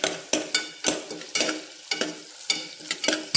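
Spiced mixture frying golden in ghee in a pan for tomato bath, a steady sizzle broken by regular rhythmic scrapes of a spoon stirring, close and alone with no talk.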